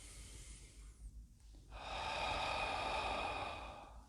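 A person breathing in through the nose with the tongue at the roof of the mouth and the chest opening, first a faint hiss, then a long, steady, close airy inhale that swells and fades.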